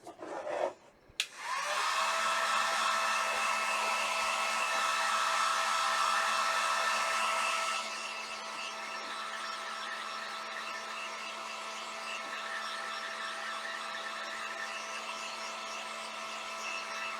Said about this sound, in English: I'm going to go ahead and dry this. So I'm going to use my my heat gun.